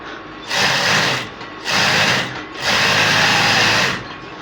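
A sewing machine stitches trousers in a home sewing workshop. The loud, close motor whir runs in three bursts of one to two seconds each, with short pauses between them.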